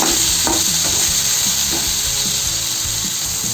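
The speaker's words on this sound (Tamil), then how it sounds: "உப்பு போட்டு வதக்கும் போது தக்காளி சீக்கிரமாக வதங்கிடுங்க" Tomatoes with salt sauté in a pan for peanut chutney, a loud close steady sizzle with soft irregular stirring scrapes throughout and no voices.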